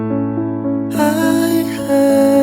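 Piano plays the verse of a song, sustained bass notes joined after a moment by brighter repeated chord patterns, loud and close with no voices.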